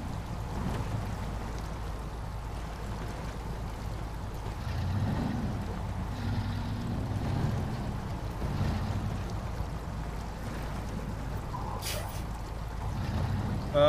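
Truck in SnowRunner backing down a river through water, a low continuous rumble with sloshing, trickling splashes, fairly quiet and steady, no talking.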